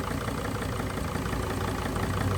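A Mercedes Sprinter diesel engine idles with one injector disconnected, giving a dense, steady, close rumble with a faintly uneven, knocking texture.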